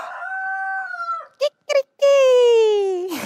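A voice imitates a rooster's crow, a long drawn-out call broken by two short yelps and ending in a rising, sustained cry; close and loud, with no other sounds.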